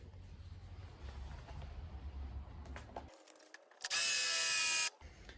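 A power drill bores into a hardwood stair rail, one loud, dense whining burst of about a second after quieter shuffling and handling noises.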